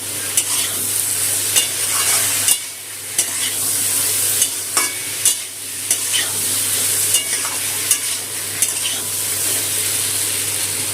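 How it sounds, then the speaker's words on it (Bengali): Ground spice paste and powdered spices frying over raised heat for a fish roe fritter curry, a steady close sizzle punctuated by repeated sharp scrapes and knocks of a spatula against the pan, with no talk. "এখন বাটা মশলার সাথে গ্যাসটা একটু বাড়িয়ে দিয়ে বাটা মশলা আর এই গুঁড়ো মশলাটা কষিয়ে নেব"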